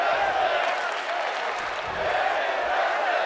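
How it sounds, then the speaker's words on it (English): Wrestling arena crowd in San Juan, Puerto Rico, during a Backlash 2024 match, keeping up a steady, dense wash of applause and crowd noise throughout, fairly loud and continuous with no break. "Some great appreciation being shown by the crowd here in San Juan, Puerto Rico."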